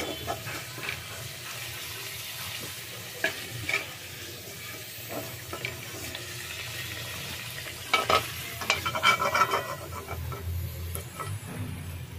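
Fried potatoes being lifted out of sizzling oil make a continuous close sizzle with scraping and clinking from the utensil, growing busier and louder toward the end.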